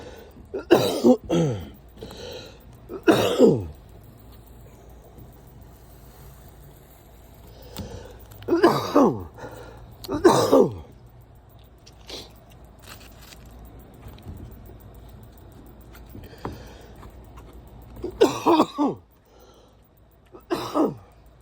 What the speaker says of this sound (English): Couldn't stop coughing.